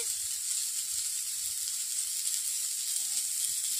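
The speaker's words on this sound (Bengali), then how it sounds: "এইভাবে আমি তেল দিয়ে নিমকুটাকে ভালো করে ভেজে নিই" Neem buds fry in oil with salt and turmeric, giving a steady, fine high sizzle that runs evenly throughout with only faint stirring underneath.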